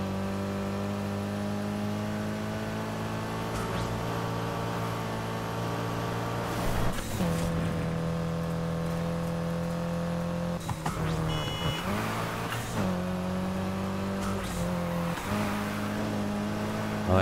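A car engine in the racing game Need for Speed Heat revs and accelerates as a steady, loud harmonic drone, dipping and surging at a few gear shifts throughout.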